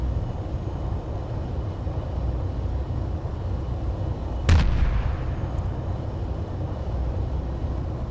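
A weapon fires a single sharp, loud blast partway through, and its boom decays into a steady rumbling background with no talking.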